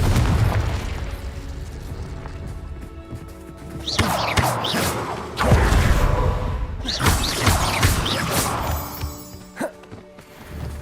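Spell blasts in Hogwarts Legacy, with loud booming explosions and crashing bursts repeating several times over an ongoing game soundscape, close and heavy.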